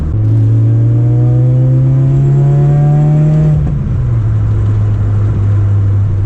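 A turbocharged Toyota AE86 engine revs and accelerates loudly from inside the car, pitch climbing steadily through a gear then dropping at a shift and holding on.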